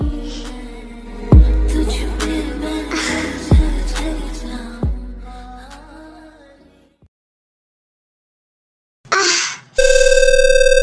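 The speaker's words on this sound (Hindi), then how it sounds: "हाँ, इस वक्त जिमिन का फोन।" A few resonant struck notes ring out and fade into silence, then a steady electronic phone ring begins abruptly at the end.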